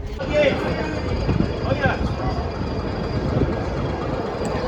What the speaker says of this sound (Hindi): ट्रेन अपनी चल चुकी है।